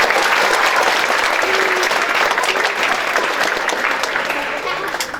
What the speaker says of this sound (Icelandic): Gefum okkur gott klapp.